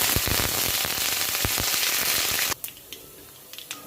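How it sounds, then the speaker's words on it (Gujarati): Urad dal and curry leaves fry in hot oil with a loud, crackling sizzle full of sharp pops, which suddenly drops away to a few scattered faint crackles. "આ લીધી છે મેં એક ચમચી અડદની દાળ અને મીઠી લીંબડીના પાન"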